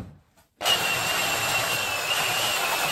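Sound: power sander sanding wood

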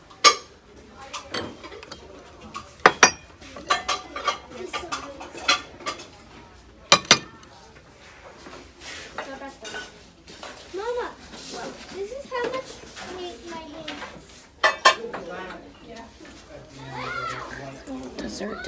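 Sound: dessert dishes clinking while being handled

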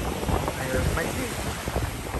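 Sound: breeze blowing on Crescent Beach, Florida

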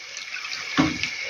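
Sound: pouring water into pan

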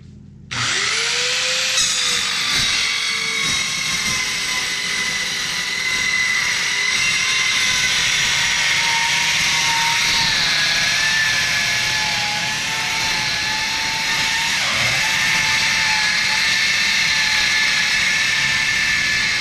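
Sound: Eastwood Mini Metal saw cutting steel

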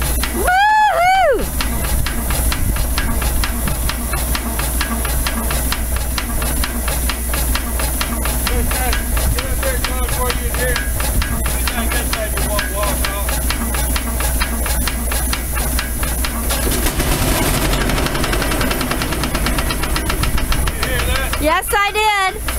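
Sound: Frick portable steam power unit running

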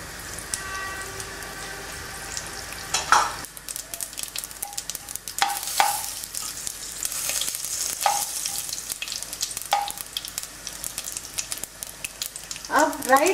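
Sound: mustard seeds and asafoetida sizzling in hot oil for tempering

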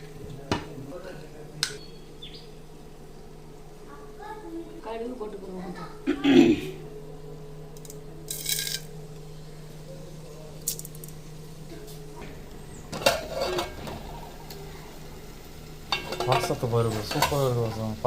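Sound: tempering porridge in sizzling oil, stirring

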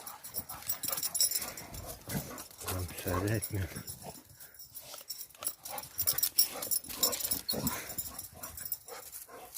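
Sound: rottweiler dog growling and whimpering

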